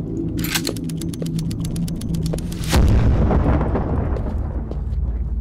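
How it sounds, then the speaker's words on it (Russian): Dynamite sticks explode in the video game Creativerse: a rapid train of sharp crackling pops builds up, then a heavy booming blast lands with rumbling debris tailing off, loud and alone. "они взрывают все-таки ресурсы"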